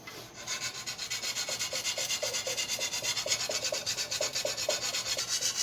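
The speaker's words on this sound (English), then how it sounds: "So I just got a really rough hone here." Knife blade stroked back and forth on a rough sharpening hone, a steady rhythmic rasping scrape repeated about twice per second, close and fairly loud with no talking.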